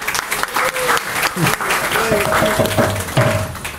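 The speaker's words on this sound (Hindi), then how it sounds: "थोड़ा सा ताली बजाइए" An audience at a Hindi devotional Bhagavat discourse claps steadily and loudly, with a voice speaking over the clapping throughout.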